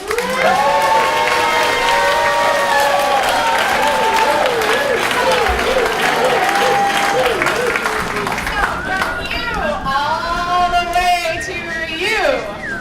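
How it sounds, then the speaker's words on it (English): An audience at a live cartoonist drawing contest cheering and applauding, loud sustained clapping mixed with shouts and whoops from a large crowd, including children's voices, continuing for over twelve seconds. "you are cheering on Iron Cartoonist Tony Cliff"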